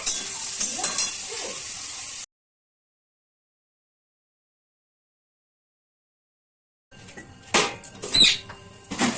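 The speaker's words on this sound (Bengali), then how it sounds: "পেঁয়াজটা আমার হাফ ভাজা ভাজা হয়ে গেছে" Onions frying in a pan give a crackling sizzle with light stirring clatter, audible at the start and again near the end with a silent gap between.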